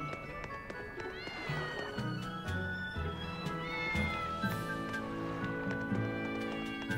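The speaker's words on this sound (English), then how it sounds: "I just heard a cat." A cat meows repeatedly in the video game Tales of Berseria, drawn-out wavering cries over a soft background of music, moderately close.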